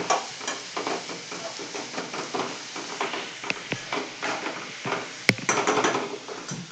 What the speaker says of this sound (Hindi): हम इसे अच्छे से मिक्स करते रहेंगे और चलाते रहेंगे और प्याज को अच्छे से सीख लेंगे